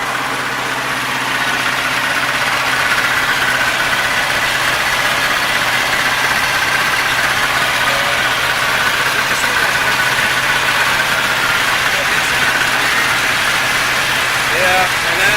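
A 720 car engine idles steadily right after startup, running healthier than before, with white smoke gone and a lingering smell of gas. Continuous, close and fairly loud, with some talk over the steady rumble.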